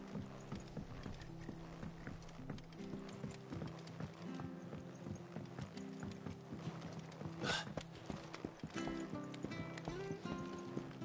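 Steady clip-clop of a horse's hooves trotting toward the stables in Final Fantasy XVI, rhythmic and continuous over low game ambience and a droning musical backdrop.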